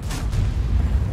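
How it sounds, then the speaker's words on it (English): Artillery fire in a game: a loud, sustained low rumbling boom that rolls on for over a second without a sharp onset, heavy and close with no voices over it. "there goes the artillery"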